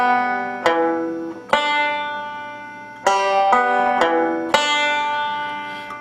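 Banjo picked in an alternating roll for Roll in My Sweet Baby's Arms, with a slide on the fretted strings. Bright plucked notes ring out alone in clear, evenly spaced attacks, close and moderately loud.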